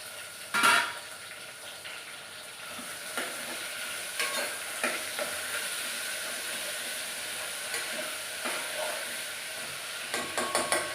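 Potatoes, carrots and tomatoes cooking in a pan, with a soft, steady sizzle and a few louder scrapes and clinks of stirring, close and without speech.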